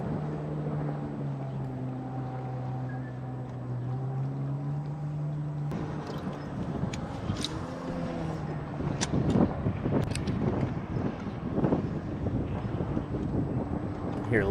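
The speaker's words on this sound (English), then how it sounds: "Hear a little boat traffic back there" Motorboat traffic drones in the distance on Lake Huron during a bass fishing tournament, a low steady engine hum under gusting wind buffeting the microphone, with faint voices.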